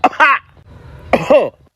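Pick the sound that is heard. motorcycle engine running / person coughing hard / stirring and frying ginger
person coughing hard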